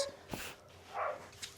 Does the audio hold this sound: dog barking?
yes